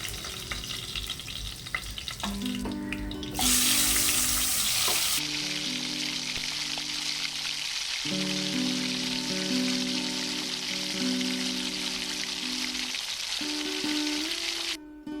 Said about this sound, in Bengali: বাকি মাছগুলোকেও ঠিক একইভাবে ভেজে নেব।